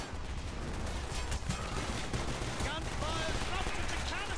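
Bursts of gunfire in Call of Duty: Black Ops campaign rattle over a dense, noisy mix of effects, with voices shouting underneath.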